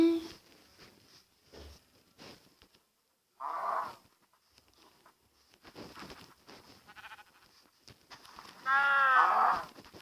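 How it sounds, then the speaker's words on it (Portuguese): A cow moos in a farm survival video game, with sheep and other livestock calls nearby; a few separate low calls come and go over quiet stretches, the loudest near the end. "Tem uma vaquinha aqui também."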